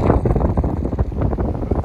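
Heavy, low rumbling wind buffets the microphone in uneven gusts across a valley, a roaring blustery noise with no voices.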